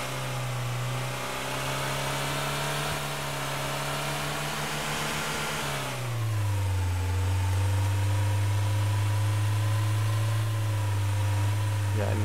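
A car engine hums in Trader Life Simulator at night, a steady mid-pitched drone that drops to a lower pitch partway through as the car shifts or slows, with talk running over it.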